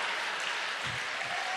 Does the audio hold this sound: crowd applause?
yes